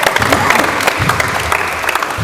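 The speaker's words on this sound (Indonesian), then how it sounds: "kita tepuk tangan dulu ya" Applause from a basketball community group after a game, loud close clapping mixed with crowd noise and some chatter throughout.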